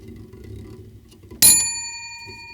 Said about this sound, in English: But one last ringing of the bell